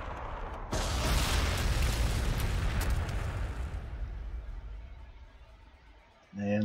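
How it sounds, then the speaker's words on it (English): Frag missile explosions in the Warhammer 40,000: Sanctus Reach strategy game burst into a loud, sustained rumbling roar that fades over several seconds, with a fresh boom near the end. "it's time to throw some artillery, kind of, in the form of frag missiles back here"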